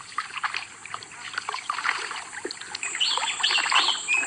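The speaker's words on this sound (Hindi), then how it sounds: "मुझे सिर्फ उन चप्पुओं की आवाज सुनाई दे रही है जो पानी को चीरते हुए नाव को आगे" Wooden oars paddle through water as a rowing boat moves slowly through the Sundarbans mangrove forest: soft splashes and trickles, with faint bird chirps around, quiet and fairly close.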